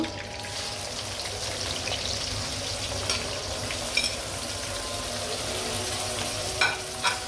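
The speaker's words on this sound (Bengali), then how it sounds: "আমি এখন পেঁয়াজ দিয়ে দেব" Onions frying in hot oil with cardamom for a Bengali-style wedding roast, a steady broad hiss that holds throughout, broken by a few light taps and clinks.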